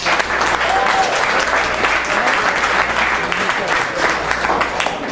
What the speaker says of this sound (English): So give them a round of applause real quick.